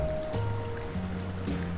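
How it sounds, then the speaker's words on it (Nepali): A jungle stream flows in a deep forest, its steady, moderately quiet rush of water running without a break and with no voices over it. "यहाँ खोला छ"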